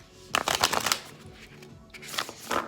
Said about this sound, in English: I'm having difficulty cutting the deck